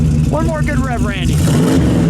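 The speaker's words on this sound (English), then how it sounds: "One more good rev, Randy." A 1959 DeSoto Adventurer with a 383 V8 and dual four-barrel carburetors revs up from idle in a strong rising surge, close and loud, while someone talks over the engine.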